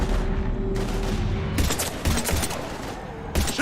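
Gunfire in the shooter game Mass Effect 3 comes as dense bursts of rapid automatic shots, loud and close, broken by short pauses before the firing resumes.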